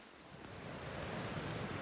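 Rain drips steadily from trees along the Appalachian Trail, a dense, even patter of drops building slightly in loudness, with no voices.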